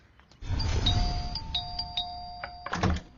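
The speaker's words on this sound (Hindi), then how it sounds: "कितना डोरबेल मारता है यहाँ?" A two-tone ding-dong doorbell chimes at a house door, rung twice in succession with bright sustained tones over a low background rumble, then a short burst of noise at the end.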